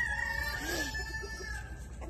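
A rooster crows once on a farm in the morning, a fairly close call with a rising and falling contour, heard alone over steady background hum.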